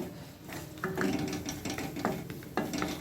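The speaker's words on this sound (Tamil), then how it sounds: "இது லைட்டாக அப்படியே ஃப்ரை ஆகிட்டு இருக்கட்டும்" Grated coconut lightly frying in a pan, a soft sizzle with occasional stirring scrapes and a few light knocks of a utensil against the pan.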